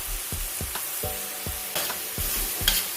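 Mushrooms with steak seasonings fry and sizzle in a pan, with steady sizzling broken by repeated scraping stirs, close and clear, no talk.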